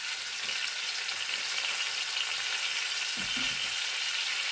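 Chicken fries in a pan with lemon for a Sprite-style recipe. A steady, bright sizzle hisses evenly throughout, with a brief stirring scrape near the end and no voices.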